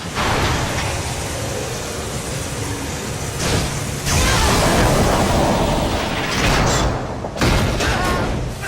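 A lab collapsing in a video game, heard as a loud, continuous rumble of crashing and debris with heavy thuds and bursts swelling through it.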